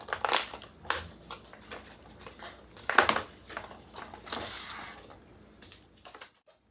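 Food storage pouches holding freeze-dried mashed potato bowls are pressed and zipped shut, producing close, irregular crackling and rasping plastic sounds in several bursts that fade toward the end.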